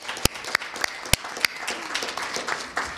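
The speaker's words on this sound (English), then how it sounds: "So can I just hear a round of applause for these students?" Scattered applause from an audience at a public library sustainability event for Youth Council students, a few sharp close claps standing out over a thinner spread of clapping that fades in and out.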